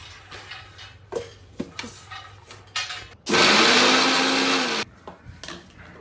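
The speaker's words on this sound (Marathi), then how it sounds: "आता आपण मिरच्यासुद्धा मिक्सरमधून बारीक करणार आहोत." A kitchen mixer grinder whirs loudly for about a second and a half while grinding green chillies, a dense roaring buzz framed by quieter clicks and handling knocks before and after.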